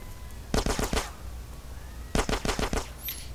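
Gunfire in GTA San Andreas: two quick bursts of rapid shots, about five each, separated by a pause of around a second, fairly loud and crisp, with a faint high chirp at the end.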